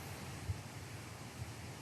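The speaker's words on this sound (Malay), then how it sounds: "Kita dah nampak air terjun." Steady broadband rushing of water, like a waterfall heard from a short distance, continuous and even with no voices.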